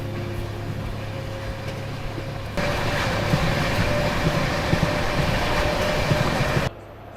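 Rajdhani Express hauled by two engines runs at speed with a steady rail roar and a hum, the rumble growing louder and rougher partway through before dropping off sharply near the end.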